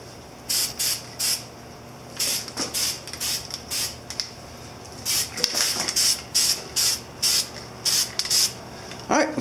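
Spray paint going on in short repeated bursts over the chrome chain guard of a Yamaha Virago XV250, each loud close hiss lasting about half a second with brief pauses, in a steady rhythm of light passes.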